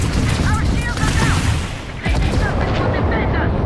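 Ship turrets firing in the space game Starfield, with continuous rumbling booms and rapid bursts of fire over an engine drone, loud and dense, with a short dip midway.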